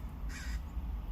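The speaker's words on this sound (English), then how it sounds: "you can hear all the crows above me and all the noise here at work" A single hoarse crow caw rings out overhead, short and clear above a low, steady hum of workplace background noise outdoors.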